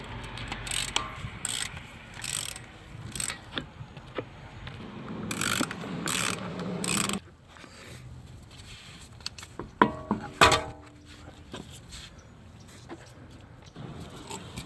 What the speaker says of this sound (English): let's go ahead and get this wheel off here